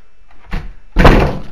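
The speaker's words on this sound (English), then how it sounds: "The door's just shut." A door slams shut in a reputedly haunted building, one loud close thump preceded by a softer knock, heard alone.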